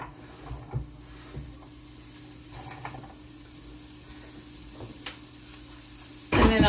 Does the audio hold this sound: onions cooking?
yes